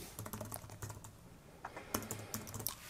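Keystrokes on a computer keyboard while a watermark name is typed into photo-editing software, a scatter of light clicks in two short bursts, with a louder tap at the very end.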